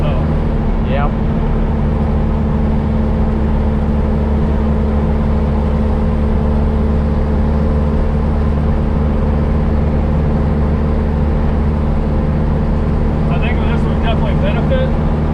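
A VW Baja with a 1600 engine and stock transmission pulls along on big tires, its steady engine drone and road rumble running loud and continuous throughout, with people talking over it.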